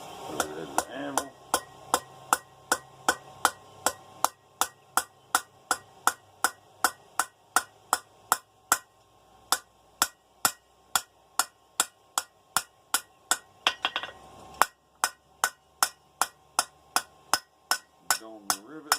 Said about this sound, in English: Dome the rivet a little bit.